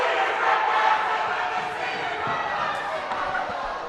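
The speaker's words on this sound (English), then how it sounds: "Our Rich Rebel student section led by Nate Woods and company out there cheering really loud for your Rich Rebel girls" Student section crowd at a Rich Rebel girls' basketball game cheering loudly and steadily in a gym, a dense wall of voices with faint bounces and a commentator's voice mixed in.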